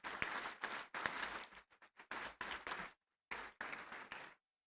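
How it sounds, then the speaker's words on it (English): A crowd at a 2018 State of the Village meeting applauds in loud, clattering bursts of clapping. The bursts cut off abruptly between stretches and fade into silence at the end. "Let's have a big round of applause"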